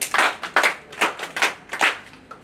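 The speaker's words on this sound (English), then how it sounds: "let's give him a big round of applause" Sparse claps from a small audience greeting a newly introduced director at a company launch event, heard as a handful of separate, irregular hand claps that come and go rather than a sustained ovation.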